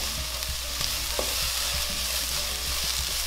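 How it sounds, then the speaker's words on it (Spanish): Onion and chili sizzling in hot oil in a pan, a steady close frying hiss with occasional stirring clicks, no voices. "ya nuestro aceite está caliente. Vamos a agregar la cebolla junto con el chile."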